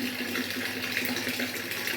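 Water runs steadily from an RO purifier tap into an earthen pot in a home kitchen, a close, continuous hiss and splash with no talking.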